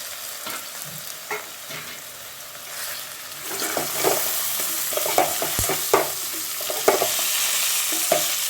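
Cut okra pieces frying in hot oil, starting as a quiet sizzle and swelling into louder, busier crackling with intermittent stirring scrapes.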